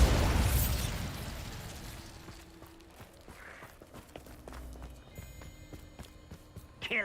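Bombarda blasting spell cast in Hogwarts Legacy, a loud burst near the start that decays into a rumbling tail, followed by scattered clattering impacts and quieter effects, with no talking.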